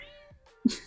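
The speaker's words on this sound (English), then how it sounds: "if you hear any meowing, that's my cat." A pet cat gives a short, clear meow close to the microphone, with a brief sharper sound at the end.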